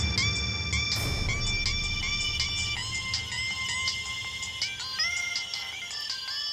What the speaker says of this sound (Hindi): ये किस बुड़बक का फोन टुनटुना रहा रे?